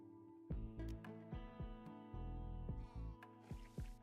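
Video-game sheep bleat in a string of short, wavering cries, several close calls overlapping in quick succession with no one speaking.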